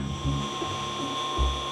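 Close mechanical whirring hum from a pool pump motor, with a steady whine and a rough, ratcheting rhythmic clatter repeating every half second or so; the drain is not drawing water.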